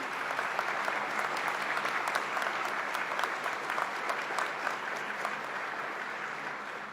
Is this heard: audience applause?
yes